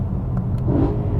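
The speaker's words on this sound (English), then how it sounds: "Oh, what an engine." BMW M3 E92 engine running steadily, a loud, close, deep rumbling drone that stays even across the short stretch, heard alone with no talking.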